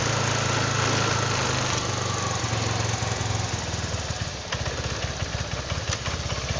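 A Honda Vario 125 scooter engine that hesitates on throttle runs close by with a rough, uneven idle that turns into a choppier, pulsing beat partway through, and nobody talks.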